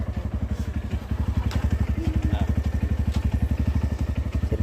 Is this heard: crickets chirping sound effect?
no